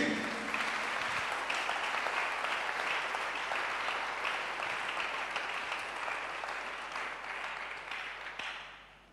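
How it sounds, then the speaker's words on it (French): A church congregation applauding and clapping for Jesus during a sermon, a dense, sustained wash of many hands from a sizable crowd that holds steady and then tapers off at the end. "Clap your hand for Jesus"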